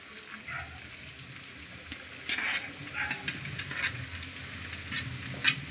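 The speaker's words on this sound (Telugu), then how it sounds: "మనం ముందుగా సిద్ధం చేసుకున్న ఈ జొన్నలను అయితే ఇందులో వేసుకుందాం" Soaked jowar grains tipped into a hot pan with turmeric, a constant sizzle that swells as they land, followed by scraping and clinking of a spoon stirring the grains.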